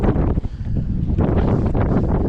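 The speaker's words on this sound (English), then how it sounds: "it's getting really windy and chilly" Strong wind buffets the microphone in a continuous, roaring rush with gusty fluctuations throughout, outdoors while kayak fishing.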